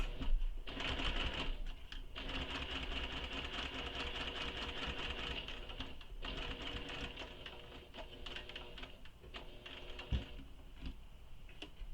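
Sewing machine running steadily while stitching a seam on a shoulder bag, a dense continuous mechanical whir with brief pauses near two and six seconds, loud and close.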